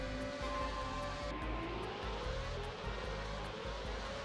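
A motorcycle engine in a MotoGP road racing video game revs continuously, a loud steady whine with rising pitch sweeps as it accelerates through gears.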